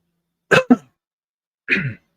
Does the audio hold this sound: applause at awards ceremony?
no